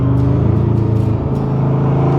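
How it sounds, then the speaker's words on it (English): A 1965 Corvette Sting Ray convertible with the L79 engine and a 5-speed rumbles through its side exit exhaust, a deep throbbing burble that swells slightly with a light touch of throttle while driving, heard from inside the car. "can hear the side exit exhaust"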